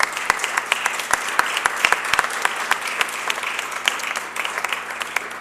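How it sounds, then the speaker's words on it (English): An audience at a Philadelphia poet laureate announcement gives sustained applause for the governing committee members: dense, continuous clapping from a sizable crowd with sharper individual claps standing out near the front. "Can we please give all of our members of the Poet Laureate Governing Committee a big round of applause?"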